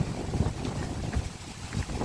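Very strong typhoon wind during Typhoon Kristine in Bohol buffets the microphone as a loud, steady roar with low rumbling gusts that swell and ease over a couple of seconds.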